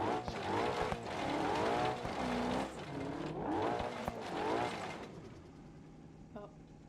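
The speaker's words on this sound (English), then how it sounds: "keep the engine quiet, keep the engine quiet" Car engine in BeamNG racing game revving and whining through repeated rising and falling sweeps, with tire squeal, fading out toward the end as voices talk over it.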